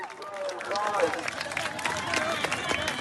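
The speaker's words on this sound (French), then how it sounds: "message salué par des sourires, par des cris de joie et par quelques applaudissements" On a Tel Aviv beach, a crowd breaks into shouts of joy and scattered clapping, with excited voices and chatter mixed throughout.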